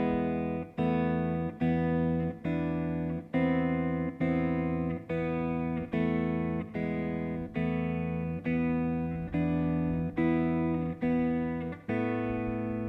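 A fingerpicked beginner guitar étude plays a simple melody climbing up the third string, with evenly spaced plucked notes ringing close and clear and no talking.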